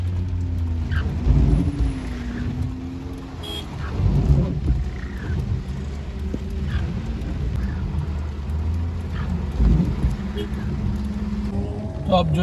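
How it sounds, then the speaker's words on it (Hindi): Heavy monsoon rain pours steadily on a car at a muddy monsoon celebration ground in Bhopal, a dense continuous wash with low rumbling underneath and faint distant voices through it. "तो अब जो है बारिश बहुत ज़्यादा तेज़ हो गई है"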